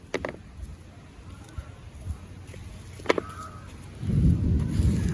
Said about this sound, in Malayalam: ആ ഇടി വെട്ടുണ്ട്